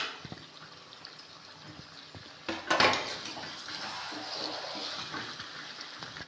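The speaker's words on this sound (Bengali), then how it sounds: "ভেজে রাখা আলুগুলো দিয়ে দিচ্ছি।" Fried potatoes tumble into a pot of chicken with a clatter of pan and utensil at close range, then quieter scraping and stirring go on against faint background noise.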